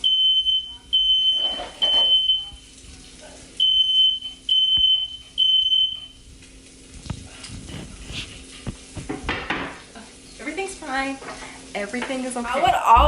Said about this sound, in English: I would always be setting off the fire alarm in the apartment